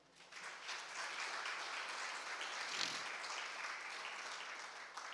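A church congregation applauding steadily throughout, a dense, even wash of clapping at moderate volume with a slight swell near the middle.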